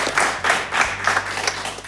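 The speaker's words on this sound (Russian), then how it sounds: "Поэтому давайте аплодировать Олесе." An audience at a New Year's show applauds, with quick rhythmic clapping surging in waves at close range.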